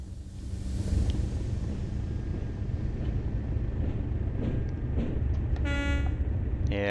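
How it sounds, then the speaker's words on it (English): A train horn in Train Sim World on the Tees Valley Line sounds one brief, loud toot near the end, over a constant rumbling engine and wind-like cab noise. "Sounding the horn."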